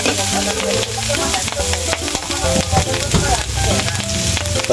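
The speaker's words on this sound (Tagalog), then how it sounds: "Sinusunod ko yan sa bawang at sibuyas para mawala-wala din ang lansa." Pork sautés with garlic and onion in a pan, a loud, close, continuous sizzle and crackle broken by stirring clatter, with music playing underneath.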